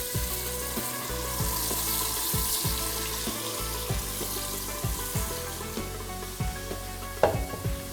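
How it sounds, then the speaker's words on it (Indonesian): Spice paste drops into hot oil and sizzles steadily in a pan while being stirred and sautéed, a bright continuous frying hiss with soft scraping strokes of the spatula. "Nah, ini sudah panas, kita masukkan bumbunya ya."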